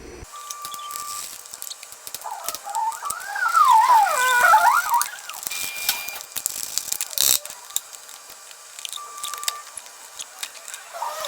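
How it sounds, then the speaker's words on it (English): A ratchet wrench works bolts loose from a car's bracket near the injectors on a 2004-2006 Subaru STI / Legacy GT, with close, loud ratcheting clicks and metallic scraping in bursts, and no speech. "I'm gonna have to take these bolts out"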